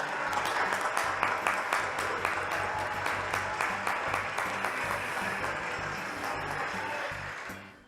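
On a French television variety show, the studio audience applauds for a singer, with loud, continuous clapping under rhythmic music accents that carries on for several seconds before cutting off abruptly.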